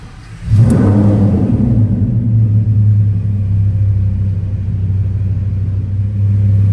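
A 2015 Lamborghini Huracan 610-4 V10 fires up in a parking garage with a sharp starter bark, then settles into a loud, deep, steady idle rumble that fills the space.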